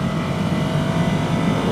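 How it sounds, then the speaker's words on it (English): A 2015 Ducati Scrambler motorcycle engine hums with a steady, low rumbling drone, close and fairly loud, holding an even pitch without talk. "the engine note has got a real nice rumble to it"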